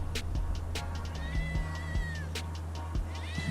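A cat meows repeatedly, several drawn-out, rising and falling cries close by, with soft background noise between them.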